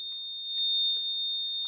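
A power relay board with its panel connected sounds a constant piercing beep, one sustained high tone that never stops, loud and close, with only faint incidental noise underneath.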